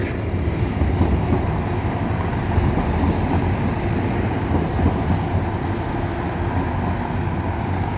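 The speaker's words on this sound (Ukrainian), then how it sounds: "новий сучасний трамвай їде по старовинній частині Львова" A new modern tram passes along a street in the old part of Lviv, with a steady loud rumble and rolling rail noise that holds level the whole time and no voices.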